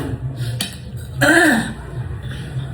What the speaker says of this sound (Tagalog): Ginuwala akong ubo.